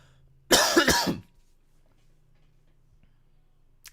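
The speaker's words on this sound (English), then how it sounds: "Coughing my lungs out." One harsh, loud burst of coughing, two or three quick hacks close by, followed by near silence.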